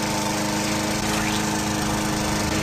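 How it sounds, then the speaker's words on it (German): A lawn mower runs in The Visitor Returns video game, its loud, steady engine drone filling the whole stretch without a break. "Rasenmäher ausmachen."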